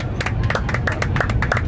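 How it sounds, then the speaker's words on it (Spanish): Airplane passengers clapping together on board before a first stop in Santiago, a busy patter of hand claps under a murmur of crowd noise and voices. "¡Aplauso!"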